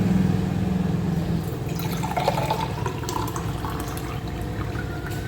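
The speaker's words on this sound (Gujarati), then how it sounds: "ભરાઈ ગયો ગ્લાસ પેલા ઠંડુ ઠંડુ સરબત" Cold sherbet pours steadily into a glass, a continuous close gurgling stream with small splashes and drips, no voices.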